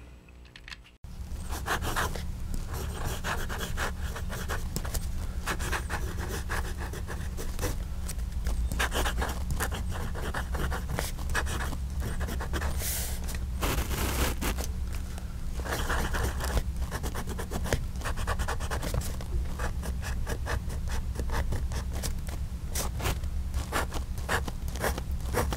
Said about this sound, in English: Let's just see how this pen performs its function of writing.